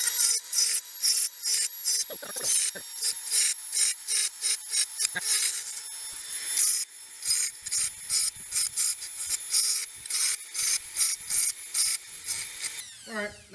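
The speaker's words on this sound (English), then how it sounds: "I've got my Dremel tool, and I'm going to go ahead and sharpen these teeth real quick." A Dremel rotary tool sharpening saw teeth, rasping in repeated short bursts with a steady high whine, close and loud, pausing briefly between passes.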